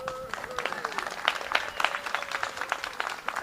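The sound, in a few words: audience clapping at ribbon cutting ceremony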